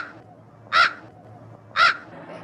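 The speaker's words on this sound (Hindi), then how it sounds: "अच्छा कौवे का आवाज आ रहा है भाई।" A crow caws twice, two loud harsh calls about a second apart, close and clear over a quiet background.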